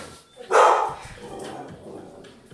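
One loud, close dog bark rings out, then a softer trailing yelp or whine fades into quiet room noise.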